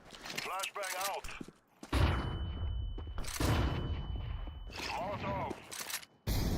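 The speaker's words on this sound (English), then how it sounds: "Flashbang out." Flashbang grenade going off during a Counter-Strike 2 competitive match, a loud burst followed by a sustained high ringing tone, amid ongoing gunfire and voice callouts.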